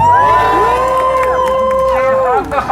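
A crowd of trans protesters cheers for the organiser, a loud sustained swell of shouts and whoops with high voices riding over the mass of noise, fading slightly at the very end.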